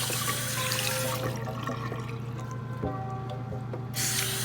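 Homemade blackberry and lemon soap is rinsed off under a running tap, a steady splashing hiss of water that quiets briefly in the middle, then surges again at the end.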